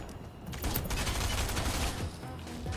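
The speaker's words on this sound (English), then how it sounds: "they won't stop gosh darn shooting me" Rapid gunfire in Fortnite rattles at the player, a dense burst of shots that is loud and close throughout the short stretch, with no talk over it.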